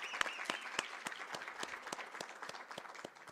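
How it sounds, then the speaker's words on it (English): An audience at a teaching and learning festival applauds, a steady, moderately distant patter of many hands clapping together, with no talking over it. "Can we just give them a round of applause?"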